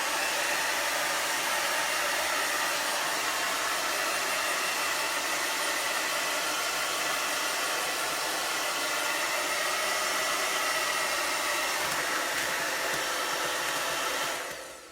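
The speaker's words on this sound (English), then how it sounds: "I should actually hit this with the hairdryer for a second." A hair dryer blows steadily over wet painted paper, a loud, even broadband whoosh held without pause for about fifteen seconds before cutting off at the end.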